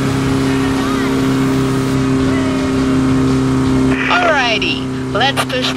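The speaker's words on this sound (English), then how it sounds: "Type 2 engine to its absolute limit" A Volkswagen Type 2 Kombi bus engine revs hard in the racing game The Crew Motorfest, a loud steady drone that climbs and warbles toward the end, with a voice speaking over it.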